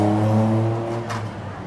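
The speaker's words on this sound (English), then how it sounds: "You can hear the traffic going by." Road traffic passing beside a night market in Thailand, a loud near vehicle with a low droning horn-like engine tone that sweeps by and fades within under two seconds.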